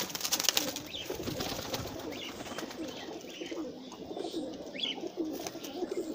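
Pigeons cooing at a loft of high-flying pigeons, soft repeated coos and chirps over a steady outdoor background, with a burst of wing flapping near the start.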